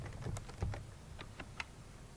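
Typing on a computer keyboard while entering a command in an analysis script, a short run of soft, irregular key taps, quiet and close.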